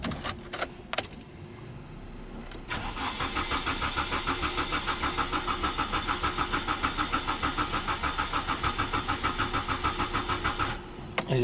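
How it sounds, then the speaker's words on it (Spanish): A 1998 Nissan Sentra GST with an automatic transmission cranks steadily without catching, its starter turning over in a fast rhythmic chug for about eight seconds after a few clicks and key sounds, loud and close with no voices. "El vehículo da marcha,"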